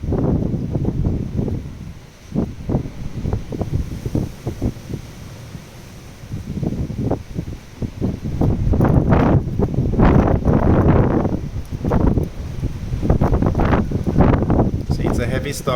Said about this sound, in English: See, it's a heavy storm, or like stormy weather, no windy weather.